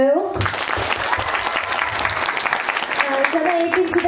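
An audience at a university welcome event for new students at a Korean language centre claps steadily for a few seconds, the applause starting abruptly and filling the room at close range.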